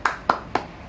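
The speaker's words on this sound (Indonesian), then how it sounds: "Kita tepuk semangat" A classroom of children does a rhythmic spirit clap: three sharp, evenly spaced claps close together in under a second, with no talking over them.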